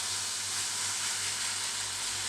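Poha uttapam batter sizzles on a hot oiled pan, a steady bright hiss that holds evenly for a couple of seconds with no one talking.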